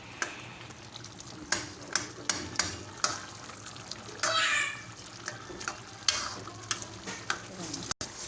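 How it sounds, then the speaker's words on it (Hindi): Tomatoes being mashed and stirred into a masala paste for chicken karahi, with wet squelching, scraping and sizzle-like clicks that come in irregular bursts, fairly quiet and close. "अच्छे से अब टमाटर को इस पेस्ट में मैश कर लीजिए।"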